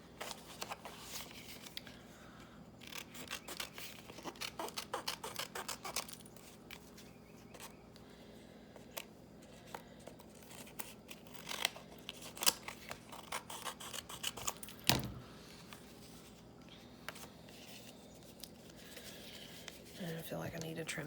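Scissors trim the torn edge of a paper booklet in a scattering of quiet, crisp snips and paper rustles, close up and faint, with soft talking in between the cuts.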